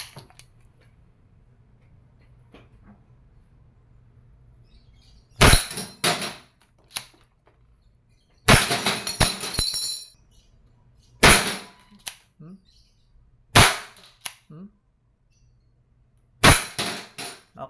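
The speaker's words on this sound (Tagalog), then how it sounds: "this is the Wingun 708 revolver. This is airsoft revolver, CO2 powered." A Wingun 708 CO2-powered airsoft revolver with a 2.5-inch barrel fires several sharp, loud cracking shots, spaced irregularly over quiet gaps, some arriving in quick clustered bursts.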